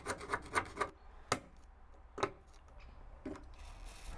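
A cast iron woodstove flue collar gets scraped and cleaned, a series of sharp rasping rubs and knocks in an uneven rhythm, close and fairly quiet with no talk.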